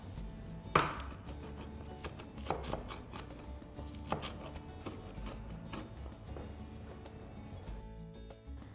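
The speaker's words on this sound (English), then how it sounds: "I'm going to chop the spinach" A knife chopping about a cup of spinach on a board makes a few sharp, irregular chops, quiet and close, with no talking over them.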